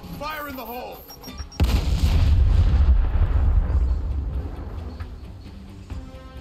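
A loud, booming explosion in the Gears Tactics video game bursts in abruptly and rumbles for a couple of seconds before fading, preceded by brief game sounds.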